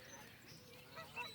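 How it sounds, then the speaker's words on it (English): A few faint, distant honks come from geese flying overhead outdoors, arriving as short calls near the end against a soft background. "some geese is flying"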